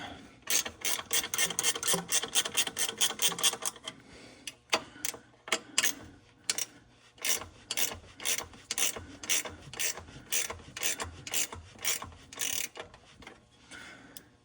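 Ratchet wrench clicking as a bolt is tightened during catalytic converter replacement on a 2011–2020 Dodge Grand Caravan minivan; a fast burst of dense clicks gives way to slower, evenly spaced ratchet strokes, close and clear with no talk.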